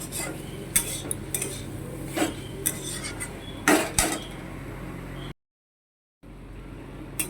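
Kundru (ivy gourd) stirred with turmeric and chili powder in a pan, a spatula scraping and knocking against the metal in irregular strokes, nearby and moderately quiet, with a brief break in sound partway through.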